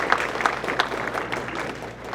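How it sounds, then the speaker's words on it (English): Moderate applause from students at a STEM internship wrap-up session, a scattered patter of clapping with a few sharper individual claps, fairly soft and steady for about two seconds. "a big round of applause from the students to the faculty"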